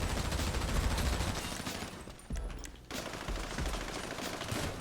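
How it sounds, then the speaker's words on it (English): Rapid automatic gunfire from the GTA Online video game rattles almost continuously and loud, with a brief dip in intensity midway before the bursts resume, and no voice over it. "Let me just keep shooting."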